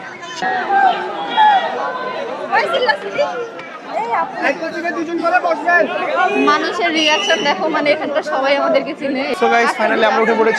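A dense crowd chattering at the Debotakhum boat point in Bangladesh, many overlapping voices close by and at a distance forming steady busy babble, with a nearby person also talking.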